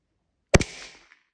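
A single sharp crack from a gas-powered airsoft pistol firing a 0.2 gram BB through a chronograph, close and loud, with a short decaying tail and a faint click just after.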